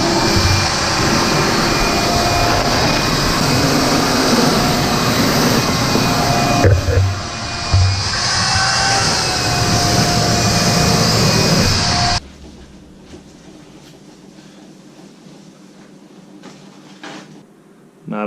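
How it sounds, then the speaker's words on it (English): A shop vacuum roars with a steady high whine close by for about twelve seconds, then switches off. Quieter indoor rustling and knocks follow. "I'm gonna get a shop vac."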